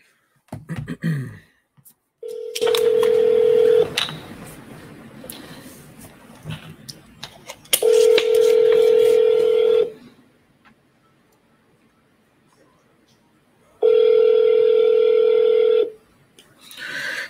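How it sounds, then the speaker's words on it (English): A telephone on speakerphone dials out, then a steady tone sounds in three loud, long bursts separated by quiet gaps. "Dial them right now."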